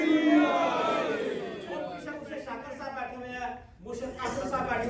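Crowd at a Jashan celebration for the birth of Imam Ali in Malta shouting the Nara-e-Haidari slogan together, a loud massed chorus of voices swelling and dipping briefly before rising again.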